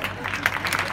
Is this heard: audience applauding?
yes